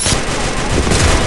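Rapid gunfire from a shooter video game rattles continuously and loudly through the whole short stretch, dense bursts with no voices over it.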